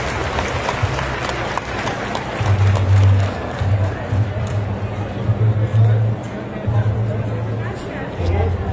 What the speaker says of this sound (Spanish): vamos a echarle un aplauso a nuestras cocineras y cocineros tradicionales